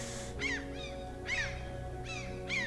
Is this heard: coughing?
no